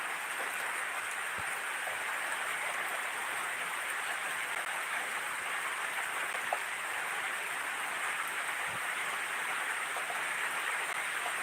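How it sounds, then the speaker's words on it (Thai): Mountain rain falls steadily, a dense even hiss of drops with no pauses, moderately faint and continuous throughout with no voices. "แต่ว่าช่วงนี้ที่บนดอยนะครับฝนก็ยัง ตกชุ่มฉ่ำนะครับ"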